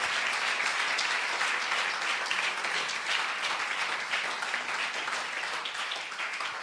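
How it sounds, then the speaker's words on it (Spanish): Church congregation applauding in a steady, dense wash of clapping that holds evenly throughout, close and full with no voices standing out. "Denle un aplauso a ese nombre."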